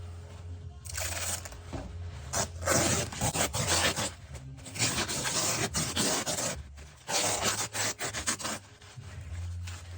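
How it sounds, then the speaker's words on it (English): Masking tape pulled off the roll and wrapped around three model horses being packed for shipping, a close, continuous run of ripping and rubbing in several bursts across the whole stretch, with no voices. "Masking tape."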